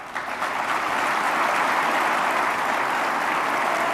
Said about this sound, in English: Okay, big applause.